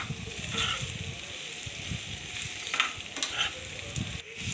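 Kothu parotta stir-fries with tomato in a pan, giving a steady close sizzle with frequent clicking, scraping strokes of the spatula and a short pause near the end.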